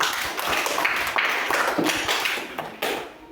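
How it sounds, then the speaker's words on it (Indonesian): A classroom of students applauds group 2, a short burst of scattered, uneven hand claps, fairly close and lively, without any talk. "Nah, tepuk tangan dulu untuk kelompok 2."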